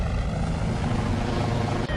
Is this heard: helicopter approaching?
yes